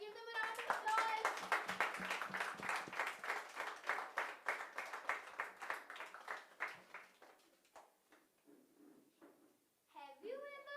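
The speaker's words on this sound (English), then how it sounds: "Let's give them a round of applause." An audience at a live school event claps in a sustained burst of applause that gradually thins out, with voices heard as it fades.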